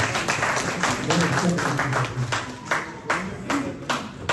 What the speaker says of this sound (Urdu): ایک دفعہ اور تالیاں ہمارے فیاض بھائی کے لیے